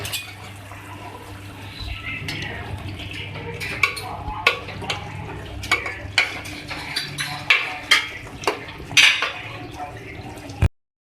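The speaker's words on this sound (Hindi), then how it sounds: "इसके बाद हम इसको मिक्स करेंगे" Beef and cabbage curry with fresh coriander being stirred in a pot, a spoon knocking and scraping against the metal in repeated clinks over a wet, bubbling background.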